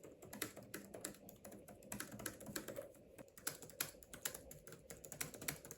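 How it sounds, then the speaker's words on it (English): Quiet, rapid keystrokes on an Apple M1 Pro 16-inch MacBook Pro keyboard, soft tactile clicks in a steady irregular stream, close and alone. "it feels more tactile and quieter than my 13-inch typing with the same amount of force."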